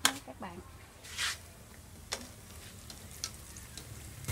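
Vegetarian ribs frying in a pan for Vietnamese broken rice, a soft steady sizzle with a few sharp clicks and taps, while someone speaks over it.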